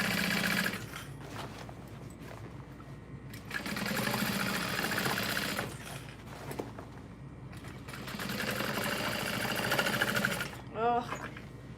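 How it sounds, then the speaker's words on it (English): A sewing machine stitches along the top edge of a bucket bag, running in steady bursts of rapid mechanical chatter with short pauses between, while a person talks. "I'm just sewing along the top edge of the bag."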